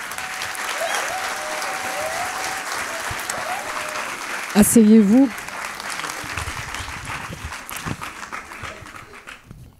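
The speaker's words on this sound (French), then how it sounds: "qu'on peut applaudir chaleureusement." An auditorium audience applauds warmly, a dense, steady burst of clapping that carries on under a voice speaking briefly, then fades as the room settles.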